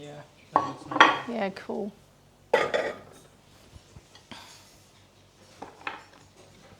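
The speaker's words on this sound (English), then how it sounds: "Let's grab a plate." A plate is pulled from a stack of dishes in a home kitchen, giving several sharp ceramic clinks and clatters with some cutlery rattle, separated by short pauses, and a voice speaks briefly.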